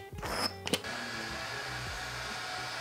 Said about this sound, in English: let's blow dry today.